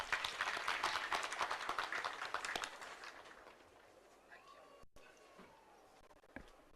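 A graduation ceremony crowd at Kampala International University applauds after a speech. Dense, fairly distant clapping for about three seconds, then thinning to scattered claps and quiet hall noise.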